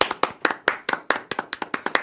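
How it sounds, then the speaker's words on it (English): A few people clapping in a small indoor room, about a dozen sharp, close claps in a quick, slightly uneven rhythm, with no talking. "Should we clap?"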